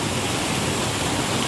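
Dudhsagar waterfall pours down in a steady, dense roar of falling water, unbroken and loud, with no voices over it.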